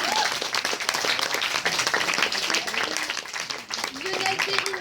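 A theatre audience at a comedy show applauds, with dense, sustained clapping throughout and people talking over it.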